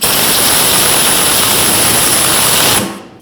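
A tool tightens the rear strut mount nut on a 2014-2023 Jeep Cherokee, giving a loud, close, steady whirring hiss for nearly three seconds that then cuts off abruptly into near silence.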